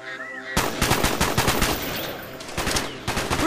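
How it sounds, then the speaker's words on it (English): Gunfire in Call of Duty Black Ops, a loud burst of rapid automatic shots close by, firing continuously for about three seconds with a short break near the end. "Mason, fire when ready"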